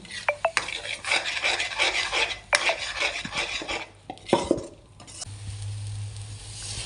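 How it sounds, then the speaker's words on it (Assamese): A spoon stirs paneer masala in a pan with a little water added, making close scraping and rubbing strokes over a sizzle that fades and returns in bursts before settling into a quieter simmer. "অকণমান কাষতে পানী দি লৰাই থাকিব"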